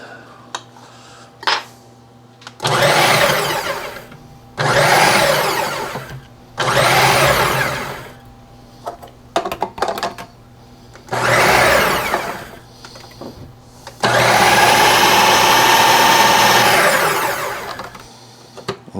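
A food processor chops peeled tomatoes for salsa in five loud whirring bursts of a few seconds each, the last one longest, separated by quiet pauses with small clatters of the bowl and lid.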